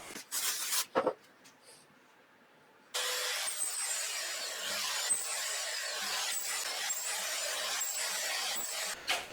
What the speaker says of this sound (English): And then we'll whiz it through the saw. That thing cuts fret slots in about a minute.